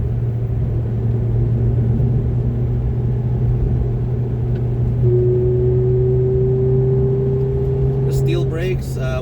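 A 2006 Ferrari F430 Berlinetta revving above 4,000 RPM on a back road, a loud sustained engine drone with a rising tone climbing steadily before a brief rustle at the end.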